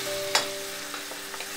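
Mushrooms drop into hot desi ghee in a pan with a soft, steady sizzle, broken by a few light stirring scrapes and clicks, close and fairly quiet.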